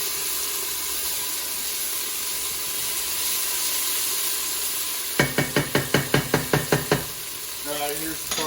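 Aromatics for Thai green curry sizzle steadily in a pan, with a quick burst of rhythmic scraping and tapping from stirring near the end; no voices.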